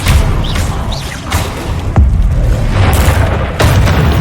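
Heavy booming blasts from the Bombarda spell in Hogwarts Legacy come in quick succession amid combat, loud and dense with rumbling low-end impacts and crashing debris.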